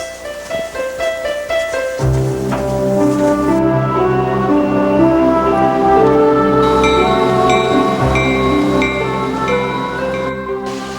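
A Metrolink commuter passenger train rumbles along steadily, with a continuous low rolling drone, some tonal hum and occasional higher whines and squeals.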